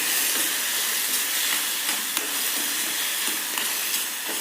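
Carrot halwa sizzling in hot ghee over a low flame, a steady close hiss with faint crackles running throughout and no voices.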